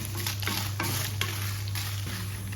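Red chillies fry in a pan for a Kerala-style tuna curry, a steady close sizzle broken by several scraping stirs of a spoon.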